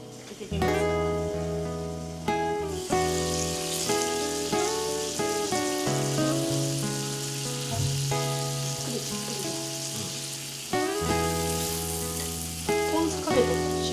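Steady sizzling from takoyaki cooking on a Bruno electric griddle, with musical tones and light clinks over it throughout.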